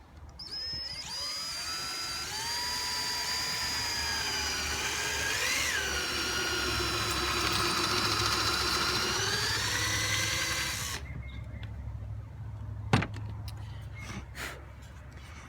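A power drill whines steadily at high speed for about ten seconds, its pitch shifting slightly under load, then stops, followed by a few faint clicks.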